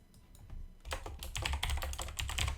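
Rapid clattering keystrokes on a loud computer keyboard at a desk, close and steady for a couple of seconds.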